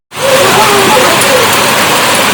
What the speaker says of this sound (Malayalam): കുറച്ച് നേരം കഴിയുമ്പോൾ നല്ല മഴയായിരുന്നു